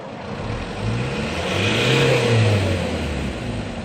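2002 Hyundai Santa Fe engine revving as the accelerator is pressed, a single steady climb in pitch that swells and then eases off, loud and close with no talking.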